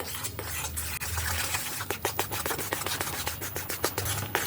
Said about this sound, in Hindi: बेसन को जो हमने भूना है घी में, उसे मिक्स करेंगे चाशनी के साथ